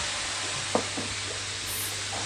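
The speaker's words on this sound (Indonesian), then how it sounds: "berikutnya di sini akan langsung saya tumis untuk bumbu halusnya" Ground spice paste sizzles steadily in reused peanut-frying oil for peanut sauce, with a few soft stirring scrapes of a utensil against the pan.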